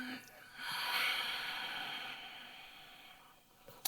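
A slow, deep inhale through the nose during a guided breathing exercise, a soft airy hiss swelling and then fading over several seconds, close and quiet, with no talking.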